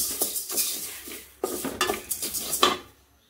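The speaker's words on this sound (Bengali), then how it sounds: "ডালটা ভাজতেছি। এই তো মুগের ডালটা।" Mung dal frying in a pan while being stirred, with a series of close metallic scrapes and knocks from the spoon against the pan over a soft sizzle, irregular and fairly loud, ending in near silence, with no talking.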